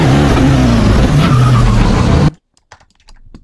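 A broken car in a Roblox game revs its engine loudly and steadily for about two seconds, then cuts off abruptly into near silence with a few faint clicks.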